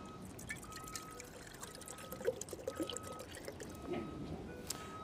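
Water pours from a bottle into a kettle, a steady close trickle lasting several seconds amid background clatter and low room noise.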